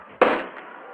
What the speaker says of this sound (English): hopefully that's the final cannon shot we hear of the night